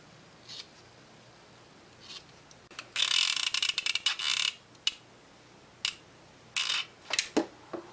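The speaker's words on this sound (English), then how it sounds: "Now I'm just going to cut the excess out. Basically just the corners." Scissors snipping excess fabric corners for a small pincushion ring, heard as short crisp close cuts in quick clusters separated by quiet gaps.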